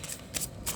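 Tarot cards being shuffled by hand in a brief, close riffle with about three quick papery bursts, quiet and without talk.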